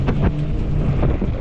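Strong 30+ mph wind gusts buffet the microphone during a cold ride on a 20-inch 48V fat-tire e-bike, a loud, close, low rumbling roar with surging bursts throughout.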